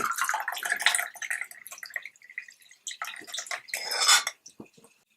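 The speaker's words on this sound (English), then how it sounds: "So now I'm going to strain the tea directly in the cup." Ginger tea is strained straight into a cup: uneven splashing and trickling runs through the strainer, then thins to a few scattered drips and light clinks at the end.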